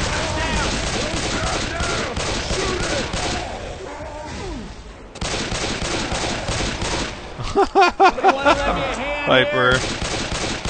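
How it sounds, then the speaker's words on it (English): Gunfire at the Tank in a Left 4 Dead 2 survival round on The Final Cut map, repeated bursts and heavy thumps crowding the mix, with players talking over the shooting. "I'm shooting at it"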